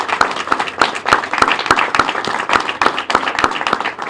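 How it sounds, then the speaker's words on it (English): An audience at a live event with a US senator claps in a steady, loud, evenly spaced rhythm, sharp claps landing about three times a second as if in unison. "Yes, let's clap for them."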